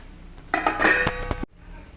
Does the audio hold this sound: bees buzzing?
no